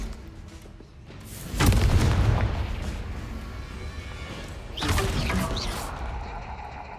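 Confringo spell explosions in Hogwarts Legacy: two loud, booming blasts with crackling debris, each followed by a rumbling fade.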